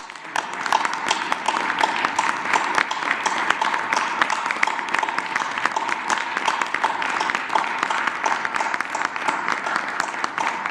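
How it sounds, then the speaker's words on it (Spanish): Sustained applause from the audience at the close of a COVID-19 press conference, dense steady clapping at moderate loudness throughout with no voices standing out. "Nada más terminamos con un aplauso aquí para"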